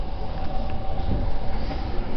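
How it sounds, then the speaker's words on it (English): A Yamato Line commuter train bound for Shinjuku and Shibuya rumbles along steadily as heard from inside the car, with a constant low roar and faint rattling, and no voices. "This is the Yamato Line train bound for 新宿 and 渋谷."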